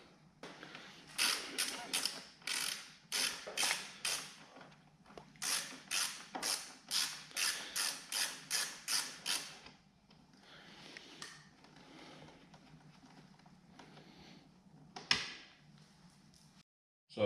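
Exhaust bolts are removed with a ratchet during a Delkevic exhaust install, giving rapid bursts of sharp clicking strokes in regular runs, then a quieter stretch and a single loud knock near the end.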